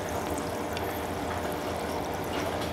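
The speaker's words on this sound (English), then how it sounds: "So you should hear bubbling, and if you look here, you can see that there's a lot of bubbles going up." Fermenting Korean rice wine (makgeolli) fizzes and bubbles after stirring, a dense steady hiss of tiny bursting bubbles heard close up, continuous and even throughout.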